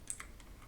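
A few quick keystrokes clack faintly on a computer keyboard, a short burst of light taps in a quiet room.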